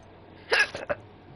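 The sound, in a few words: character hiccuping in video game Hogwarts Legacy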